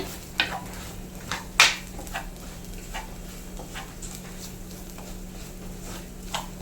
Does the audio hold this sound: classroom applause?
no